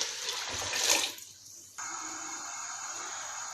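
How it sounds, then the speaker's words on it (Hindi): Water poured into a cooking pot holding wheat, rice and spices for beef hareesa, a loud steady gush that softens briefly, then resumes as a bright continuous stream. "अब इसके अंदर मैं 10 गिलास पानी के डालूंगी।"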